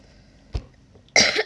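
Two coughs: a short, muffled one, then after a pause a louder, harsher cough burst close to the microphone.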